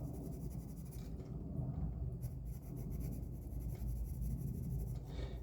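A pencil shades across paper, a close, soft, continuous scratchy rubbing with slight variations in pressure, heard alone and quiet.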